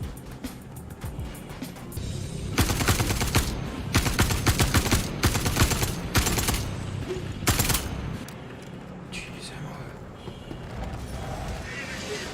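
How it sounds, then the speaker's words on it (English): Distant missile fire in the Star Citizen video game, a string of loud, rapid blasts and crackling bursts in the middle of the clip over a rumbling background, with a voice talking briefly. "notice some spooky missile noises at a distance"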